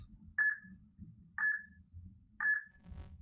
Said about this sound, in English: Here comes the beeps.